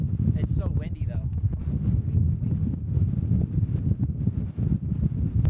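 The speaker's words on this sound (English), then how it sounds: "It's so windy, though." Strong wind buffets the microphone at a hilltop viewpoint, a constant low rumbling roar throughout with gusty fluctuations, while a person speaks briefly over it.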